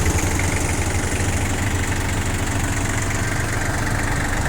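Small Japanese Yanmar F18D mini tractor with 624 engine hours idling steadily nearby, a loud, even diesel chug with a constant vibrating drone and no talk over it.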